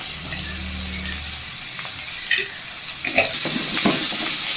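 Ground spinach paste stirs and fries in a pan: a low bubbling simmer gives way to scraping and a louder, steady sizzle toward the end, with no talking.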